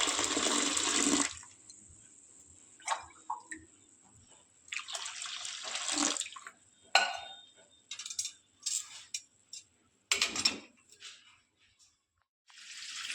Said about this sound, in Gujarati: એને ધોવા માટે હવે આપણે ઠંડુ પાણી લેવાનું નળનું અને એના ઉપરથી ધાર કરવાનું